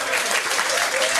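A pub quiz audience applauds and cheers a team, dense steady clapping filling the brief moment.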